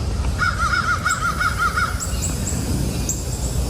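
Several crows caw in a quick run of calls, followed by a few higher, thinner bird calls, all heard over steady outdoor background noise.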